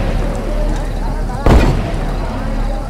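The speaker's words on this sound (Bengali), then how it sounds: "আরে সিপাহীরা বন্দুক ছোঁড়ে কেন?" In a Bengali audio drama, a single loud gunshot sound effect booms once amid a steady background bed of ambient noise, with voice narration nearby.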